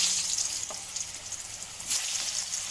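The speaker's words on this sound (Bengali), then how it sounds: "আলুগুলো ভেজে নেবো।" Potatoes fry in hot oil in a wok with a steady bubbling sizzle and hiss, plus a couple of brief clinks and bursts of spatter, moderately loud and close with no voices.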